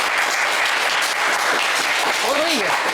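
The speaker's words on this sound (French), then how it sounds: "qui méritent un max d'applaudissements" A French TV game show studio audience applauds the contestants with steady, loud, dense clapping throughout, and a voice briefly sounds over it near the end.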